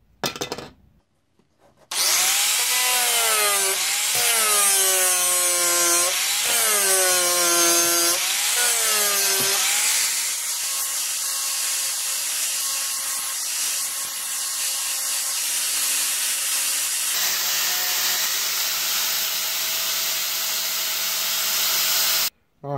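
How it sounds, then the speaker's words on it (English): An angle grinder cuts the plastic mount off a GoPro head strap. It starts up loudly, then whines in repeated rising and falling sweeps as it bites into the plastic, and settles into a steady high drone before shutting off. "I think I'm just gonna go to town on it with an angle grinder"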